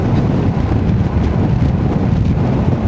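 Heavy wind buffets the microphone in a constant low roar, rumbling and gusting without a break, while riding a Yamaha Nmax scooter on a windy day.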